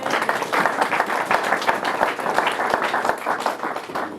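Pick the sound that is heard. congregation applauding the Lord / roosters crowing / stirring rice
congregation applauding the Lord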